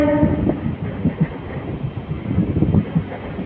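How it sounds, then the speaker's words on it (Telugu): Kakinada Port to Vijayawada MEMU express pulling out of Tadepalligudem early in the morning, a short horn blast at the start followed by the rolling rumble and clatter of the train getting underway nearby. "తాడేపల్లిగూడెం నుండి అయితే మన ట్రైన్ బయలుదేరిపోయింది."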